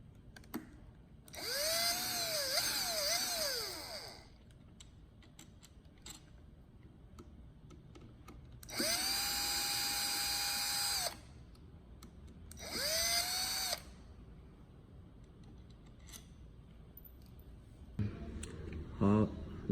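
An electric screwdriver with a T20 security bit backing screws out of a shared scooter, three separate whirring bursts that rise and settle in pitch, close and fairly loud, with brief handling clicks between.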